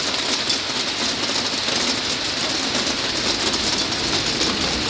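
Hail falling in Tel Aviv, Israel, a steady dense patter of ice pellets striking surfaces outdoors, continuous and fairly loud throughout with no talk.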